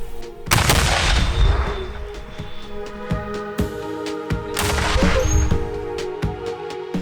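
Several sharp gunshot bangs ring out, one early and a cluster later, each leaving a ringing tail over a steady background hum.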